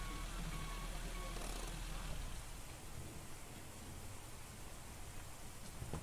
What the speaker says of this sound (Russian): Снова-таки дождь.